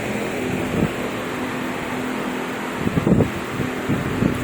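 A Westco 30-inch industrial stand fan blows air in a steady whooshing rush with a faint tonal hum. Gusty buffets of wind hit the microphone near the end, and no one talks.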